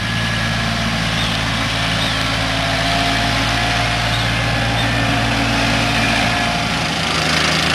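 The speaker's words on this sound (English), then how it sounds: "his flotation tires on the tractor are compacting as well" A tractor fitted with flotation tires compacts a sand-amended lawn bowling green during renovation, giving a steady, loud engine drone that holds throughout with no pauses.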